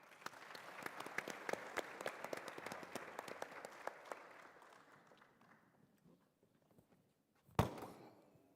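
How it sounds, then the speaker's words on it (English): An audience at a biotech convention's opening plenary breaks into steady applause that fades out over several seconds. A single sharp knock follows near the end. "So please, a round of applause for Dr."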